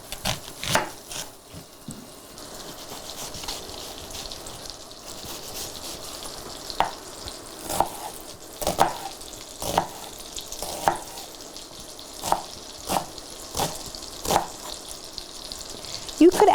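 Onion and four tablespoons of unsalted butter sizzle in a hot Dutch oven, a soft steady fry broken by repeated sharp clinks and scrapes of stirring.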